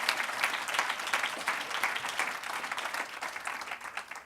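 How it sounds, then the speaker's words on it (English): Audience clapping after a live song performance, a sustained, fairly faint patter of many hands that stays even and tapers off at the very end. "You guys are good at the clapping stuff."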